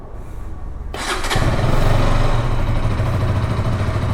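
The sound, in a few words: 2025 KTM RC 200 motorcycle underbelly exhaust sound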